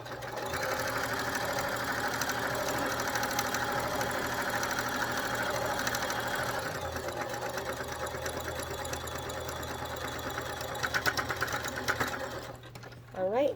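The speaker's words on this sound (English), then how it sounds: "backstitch at the beginning and end of each seam if you're using a sewing machine" A sewing machine stitches a seam on a fabric gift bag, its motor running continuously with a fast, even mechanical rattle at close range, slowing and stopping near the end. A voice talks over part of it.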